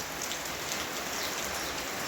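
Light rain falls in a steady, even hiss, close by and unbroken, with water beginning to run off the roof eaves; no voices.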